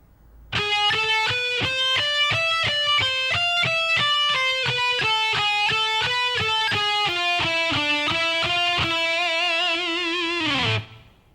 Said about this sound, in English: So at a slow tempo, that lick should sound like this.